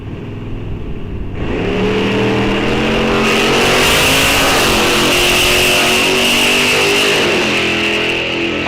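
Bracket drag racing cars launch side by side at Rock Falls Raceway, one a 1955 Chevrolet, engines bursting from idle into a loud, sustained roar that climbs through gear changes, close and continuous.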